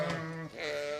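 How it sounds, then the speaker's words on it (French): Sheep penned in an enclosure in Berchem, Brussels, give two short, wavering bleats in quick succession. They sound close and clear, with no voices. "Les brebis sont ensuite regroupées dans un enclos."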